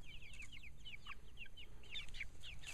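Chickens in a mobile chicken tractor run, out in sun and shade, clucking and chattering in quick repeated bursts, several birds at once, moderately close over a low steady background.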